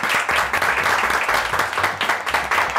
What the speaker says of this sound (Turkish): Evet, bir alkış daha alalım.